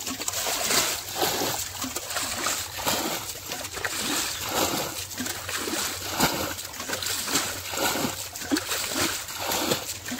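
Water being splashed out of a flooded village field by hand while fishing, a continuous rhythmic run of close, wet slaps and sloshes with no pauses.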